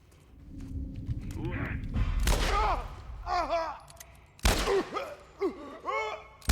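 Sharp gunshot bursts crack out in clusters, loud and close, alongside synthetic sweeping sound effects in The Last of Us video game.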